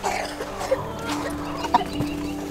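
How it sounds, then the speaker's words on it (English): Chickens loose outdoors on a homestead during morning chores, clucking in short scattered calls at close to moderate range, with a few sharper squawks and some background rustle. "We got chickens out."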